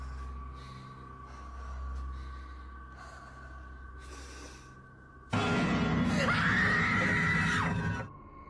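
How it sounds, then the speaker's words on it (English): A person screams while running off in horror footage; after a stretch of low rumbling and shuffling, a loud, close, sustained scream bursts in for about three seconds, then cuts off. "After spotting it, the camera holder runs off screaming."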